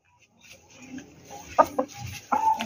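A chicken tied by its leg, with no cage, gives short, abrupt clucks close by, a few separate bursts rising over quiet surroundings.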